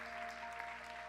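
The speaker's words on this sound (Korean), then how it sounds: "우리가 좀 박수로 좀 축복합시다" Steady applause from a congregation at a church youth worship service, a continuous dense patter of clapping throughout.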